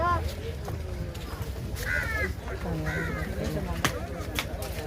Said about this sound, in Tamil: அந்த மீனை கொத்துறதுக்கு காக்காலாம் வருது.